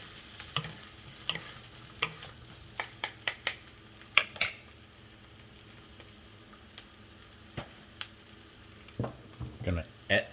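Spicy shrimp noodle soup with mushrooms is stirred in a pot, sharp utensil clinks and taps against the metal rising irregularly over a soft background simmer.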